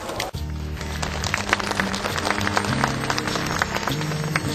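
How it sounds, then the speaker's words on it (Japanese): A racecourse crowd applauds jockey Isao Sugawara at his final ride, loud sustained clapping with a murmur of voices and a low rumble underneath, after a brief cut at the start. "どうぞ大きな拍手で迎えていただきたいと思います。"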